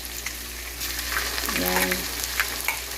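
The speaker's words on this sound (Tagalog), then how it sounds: "ilalagay na natin yung ating guys, ating sibuyas at saka bawang" Onion and garlic hit a hot pan with a steady, loud sizzle that swells as they land, a bright crackling hiss running throughout with no talking.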